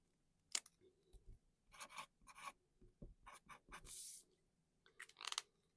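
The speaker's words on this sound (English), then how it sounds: "Let me write this down." Pen scratching notes onto paper in short, quiet bursts of scribbling and rubbing strokes, close by, with brief pauses between strokes.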